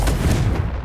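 A Confringo blasting spell exploding in Hogwarts Legacy, a single loud, close burst with a deep booming body that quickly fades.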